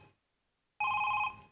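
A telephone rings once, loud and close, after a second of near silence: a single electronic ring burst with a steady, tonal warble that stops abruptly, in a comedy sketch scene.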